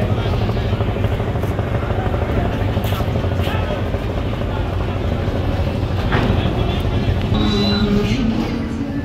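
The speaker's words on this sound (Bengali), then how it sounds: "ব্যাক গিয়ারে আছে এমভি মানামি" The diesel engine of the passenger launch MV Manami rumbles steadily in back gear, a dense, loud, continuous drone with engine throb and no break, heard at a river ghat.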